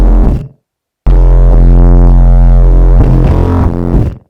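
Loud raw synth tone from the Vital wavetable synth, three sine-based oscillators sweeping through a wavetable together, with a short burst, a brief silence, then a long thick drone that shifts in timbre before fading out.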